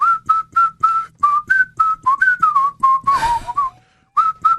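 A person whistles a tune in short, clear, close notes with small pitch steps, then there is a brief burst of noise and a sliding whistle before a final note.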